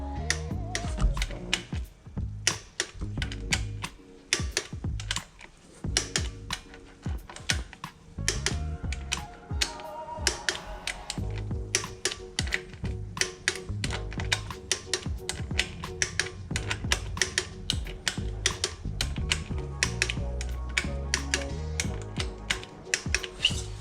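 A torque wrench tightens bolts on an SR20 engine being refitted to a Nissan Silvia, in a close series of rapid ratcheting clicks, some bursts denser than others, with no talk.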